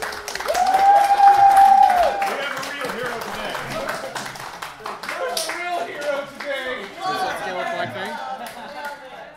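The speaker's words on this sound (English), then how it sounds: "A round of applause to the" A crowd at a Yu-Gi-Oh! Grand Prix card tournament claps and chatters together, the applause loudest at first and then settling into scattered clapping under overlapping voices.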